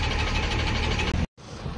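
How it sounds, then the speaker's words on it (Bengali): Traffic stuck in a jam on a highway beside the Beas River on the Shimla to Manali road, with car and truck engines idling in a steady, dense rumble that briefly cuts out near the end. "রাস্তায় পুরো জ্যাম, দেখতে পাচ্ছ তোমরা কত দূর অব্দি গাড়ি দাঁড়িয়ে আছে সব।"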